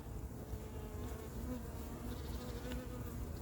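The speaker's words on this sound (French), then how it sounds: "Sous le rayon, il y a beaucoup d'abeilles" A swarm of honeybees clustered beneath a comb during a swarm removal in Yerres, buzzing as a dense, steady drone that holds throughout at a fairly quiet level.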